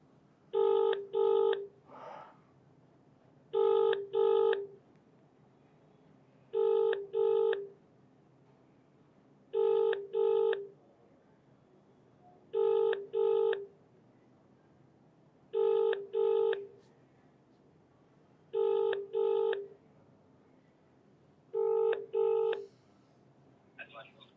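Telephone call ringing on the line, a clear electronic double-burst ring repeating steadily about every three seconds, eight times in a row.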